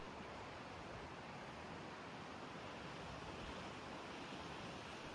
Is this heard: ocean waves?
yes